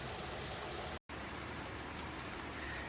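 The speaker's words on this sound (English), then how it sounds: "now it's just raining a lot" Heavy rain pouring outdoors after a hailstorm, a dense, constant hiss of drops close by, broken by a brief cut of silence, with no one talking.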